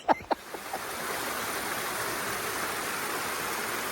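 Clean stream water flows steadily beneath a bridge in Edzell, a continuous close rushing wash after a few brief knocks at the start.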